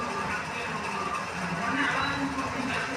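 A sewing machine double-stitches a blouse seam with a continuous close whirring and clattering of its mechanism, running steadily throughout.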